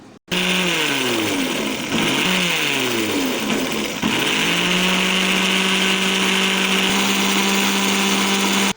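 Electric blender whirring through homemade mayonnaise, the motor revving and dipping in pitch several times before holding a steady loud whine.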